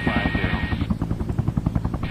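Helicopter rotor and engine in the video game Helicopter Simulator: Search & Rescue, a steady pulsing rotor chop with a high whine that fades partway through, loud and continuous.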